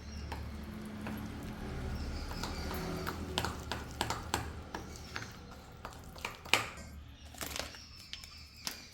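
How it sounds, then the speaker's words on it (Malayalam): Maida flour is sifted through a sieve in a home kitchen, with quiet rhythmic tapping and knocking clicks repeated over a soft background hum. "ഇനി മൈദ അരിച്ചെടുക്കാം."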